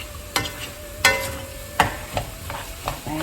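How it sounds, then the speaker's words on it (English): Fried rice with vegetables and egg is stir-fried in a wok, with a series of sharp scraping and clattering strokes over a soft sizzle, roughly one stroke every half second, close up with no voices. "Now you just want to mix it all together so that it becomes cooked through and through with that egg"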